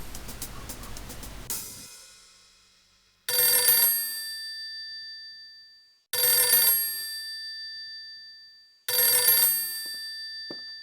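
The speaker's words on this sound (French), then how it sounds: "Je vais téléphoner à Marc." A telephone bell rings in three loud, separate bursts with silent gaps between them. Each ring is bright and metallic and fades slowly, and no one speaks.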